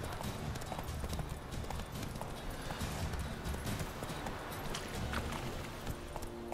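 Horse hooves clip-clopping in The Witcher 3 game, a steady continuous trot running under dense in-game ambience and some background talk.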